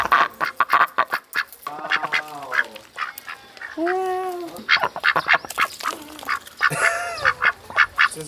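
Ducks quack repeatedly near a pond in Busan, South Korea, a close, busy chorus of harsh nasal calls in irregular bursts, some calls drawn out, with no talk over them.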